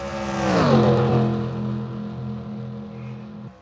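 Race cars in NASCAR Racing 2003 circle the track, a loud engine roar swelling as one sweeps close around 0.7 seconds, then settling into a steady droning pack of engines with no talk.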